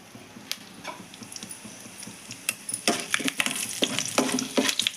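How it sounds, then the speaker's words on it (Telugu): Curry leaves dropped into hot oil in a pan while making egg chutney crackle and sizzle, starting as scattered pops and growing into dense, sharp spattering near the end, close and fairly loud. "కొద్దిగా కరివేపాకు వేస్తాను"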